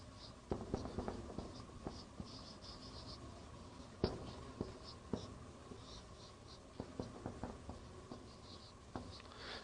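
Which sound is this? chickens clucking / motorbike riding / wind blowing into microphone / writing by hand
writing by hand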